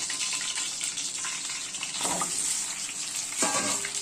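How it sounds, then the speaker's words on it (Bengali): Potatoes frying in oil and ghee give a continuous bright hiss, with a couple of brief louder stirring or shifting bursts, close and steady without speech. "ঘি দেওয়ার পর এই আলুগুলোকে আমি একটু লাল করে ভাজতে হবে"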